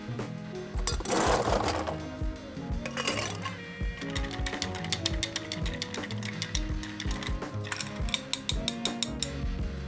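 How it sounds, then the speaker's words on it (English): Ice stirred in a glass for an Irish whiskey and Lillet Blanc cocktail, a fast, steady run of close clinking and rattling taps that continues throughout, no talking. "Next, we're going to add some ice and give it a good stir."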